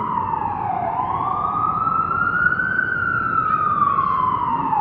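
An ambulance siren wails loudly and continuously, its pitch sliding up and down as the vehicle passes close by amid road noise.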